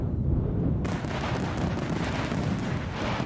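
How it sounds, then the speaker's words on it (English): Fireworks sound effect played loud on a livestream, a dense continuous barrage of booms and crackling bursts that fills the whole stretch without pause. "Let's get some fireworks on."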